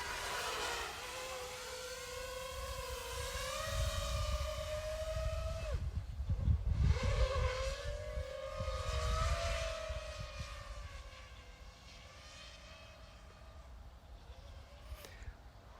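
An FPV drone with an aluminium frame flies nearby, its propellers giving a buzzing whine that rises and falls in pitch with throttle changes over a low rumbling wind noise.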